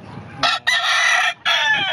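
A gamefowl rooster crows loudly and close by at a game farm, one full cock-a-doodle-doo in three bursts with brief breaks between them.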